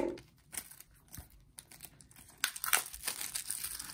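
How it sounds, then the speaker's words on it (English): A 1993 Fleer Flair trading card pack crinkles and tears as it is unwrapped, in quiet, irregular bursts of close crackling. "A lot of unwrapping in these."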